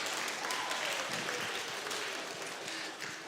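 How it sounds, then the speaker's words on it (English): An audience at a school awards ceremony applauds the handbell students, a brief burst of steady, moderately loud clapping that stays even before easing slightly at the end. "So let's give them a round of applause."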